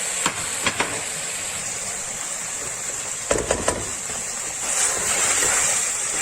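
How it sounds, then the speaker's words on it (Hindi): Grated tomato goes into a pan of sizzling masala, with a steady frying hiss, a few clinks of a utensil, and a louder surge of sizzle near the end as the tomato hits the oil, with no speech. "ये जो टमाटर मैंने ग्रेट किया है ये मैं इसमें डालूंगी।"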